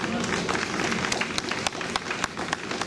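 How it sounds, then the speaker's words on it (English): Audience hand clapping in a steady, rhythmic beat at a Wear Orange event, sharp claps recurring through a diffuse crowd bed. "Don't let the hand claps get low now."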